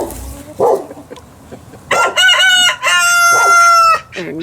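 Chickens in a backyard flock cluck close by, then a rooster crows loudly twice in long harmonic calls, with short clucks in between and after.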